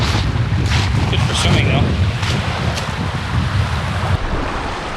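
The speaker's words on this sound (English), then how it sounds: "It's pretty windy, pretty exposed." Strong wind buffets an exposed lakeside campsite, roaring steadily and rumbling against the microphone while a voice speaks briefly over it.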